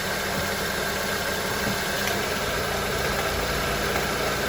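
Honda CR-V engine idling with a noisy belt tensioner, a steady close mechanical hum with a faint high whine and light rattling running continuously throughout.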